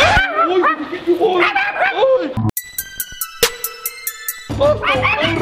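A dog barks and yips in quick, excited bursts close by while people talk over it, with a brief electronic ringtone-like jingle interrupting in the middle before the barking and voices return.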